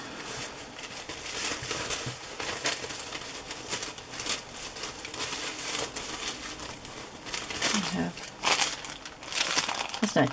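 A plastic bag from happy mail packaging is handled up close, giving continuous crinkling and rustling with a few sharper crackles, and a voice is heard at moments.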